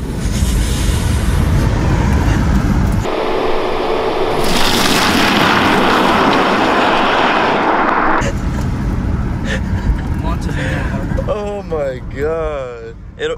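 A 2021 Tesla Model S Plaid launches at full acceleration, heard from inside as a loud, sustained rushing roar that shifts in character as speed builds. Excited voices rise over it near the end.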